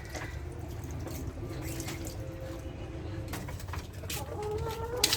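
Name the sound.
chickens on a poultry farm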